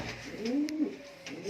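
Black Pom fancy pigeons coo in a loft, one soft rolling coo rising and falling close by, then a fainter second call starting, with no talking.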